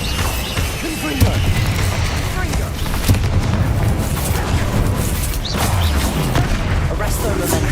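Confringo spell explosions in the Hogwarts Legacy game: repeated booming blasts with crashing debris, set amid a noisy battle with other spell effects.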